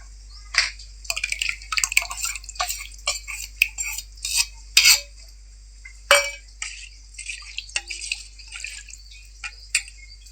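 A spice mix is tipped into a bowl of yogurt raita and stirred with a spoon, making repeated bright clinks and scraping against the bowl in quick irregular bursts, close and clear against near-silence.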